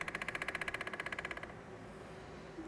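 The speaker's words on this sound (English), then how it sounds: "that's what they call the sound the Man. woodpecker makes. The drum of the woodpecker." Recorded drumming of a pileated woodpecker: a rapid, even roll of hard taps lasting about a second and a half. It stops abruptly and leaves quiet background.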